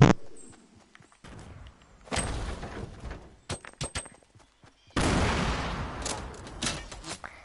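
Gunshots during an outdoor shooting game, with scattered sharp cracks and a couple of longer noisy bursts separated by quiet gaps, fairly close and loud.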